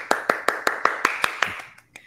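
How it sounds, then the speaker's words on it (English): A single pair of hands claps about ten times in an even, quick rhythm at a Kwanzaa celebration, close and clear, before trailing off into a couple of softer claps. "Round of applause."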